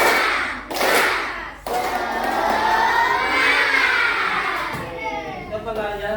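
Schoolchildren in a classroom perform the 'tepuk semangat' spirit clap, a loud, dense burst of many hands clapping together with children's voices and cheering, sustained for several seconds before trailing off.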